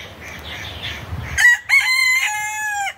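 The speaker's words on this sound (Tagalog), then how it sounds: "Ang ingay ng manok" A rooster crows loudly and nearby in a clear drawn-out call, following a stretch of low background noise.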